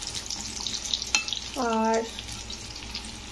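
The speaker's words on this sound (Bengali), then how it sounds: "প্রথমেই আমি বেগুনগুলো ভেজে নিচ্ছি" Eggplant slices fry in a pan with a soft, steady sizzle, a clink of utensils and one short spoken word over it.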